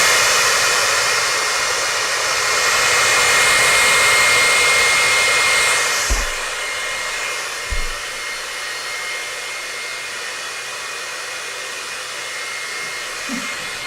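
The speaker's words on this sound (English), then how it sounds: "This is an energy healing device." A handheld energy healing wand hums with a steady, airy whir much like a hair dryer, loud and close, running continuously before easing lower after a few seconds, with a couple of soft knocks as it is handled.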